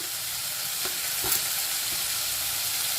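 Capsicum, potato and cabbage stir-fried in a hot pan, a steady close sizzle with faint scraping stirs, no voices.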